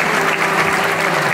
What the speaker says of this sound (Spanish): Vamos a dar un fuerte aplauso a todos los talentos